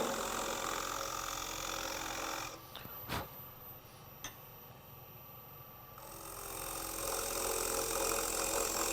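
A wood lathe turns a gimbal clock part while a scraper cuts into the spinning wood, giving a steady, loud, rough grinding hiss that drops away midway, leaving a few sharp clicks, then returns at full strength.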